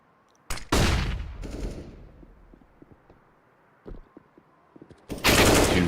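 Rapid AK rifle bursts in a competitive video game match, two loud close volleys at the start and end with scattered quieter distant shots between them.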